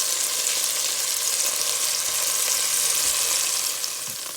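Beef sizzling steadily as it browns in a cast iron Dutch oven for Puerto Rican carne guisada, a loud, continuous frying hiss with occasional faint stirring, no talking.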